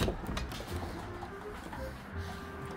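Pigeons in a loft give soft, low cooing calls, a few scattered coos over quiet background rustling.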